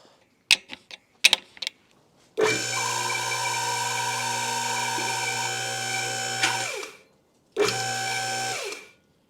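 Newly installed car lift rising with a steady mechanical motor drone, preceded by a few sharp clicks and ending in a metallic clunk as a safety lock engages, then a brief second run; close and loud, no talk.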